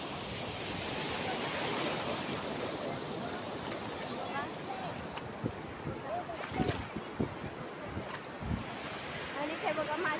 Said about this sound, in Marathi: आपला कोकणचा समुद्र लय मस्त आहे.